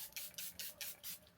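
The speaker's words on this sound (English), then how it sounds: "I use Charlotte Tilbury Airbrush Flawless Setting Spray, and I use the One Size spray." Charlotte Tilbury Airbrush Flawless Setting Spray misted from a pump bottle, five or six quick, close, airy spritzes in a steady rhythm within about a second and a half, with no talking.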